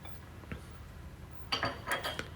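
Cookie dough with salt and sugar is stirred in a bowl, bringing faint kitchen scraping and a quick cluster of utensil clinks toward the end, with no talk.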